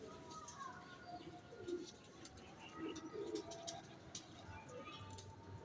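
Pigeons at a rooftop loft coo softly in low, rolling bursts, faint against outdoor background noise and chirps, with people talking nearby.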